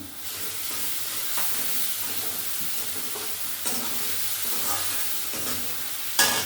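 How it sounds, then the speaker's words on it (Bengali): Ginger-garlic paste fries with onions in a pan in a village kitchen, a steady broadband sizzle with occasional stirring scrapes and a sharper clatter near the end; no talk. "ভেজে নিচ্ছি। আদা রসুনটা ভেজে নিয়েছি।"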